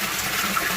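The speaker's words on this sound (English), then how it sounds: "You can see the water coming in there." Steady water pours and gushes into a homemade bait tank filter made from bathroom parts. The flow is a continuous, fairly loud hiss and splash with no speech.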